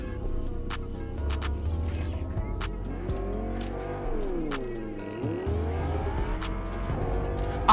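A car in a racing video game drives hard, its engine note rising and falling through gear changes with tire squeals, loud and steady throughout, along with clicky background tones.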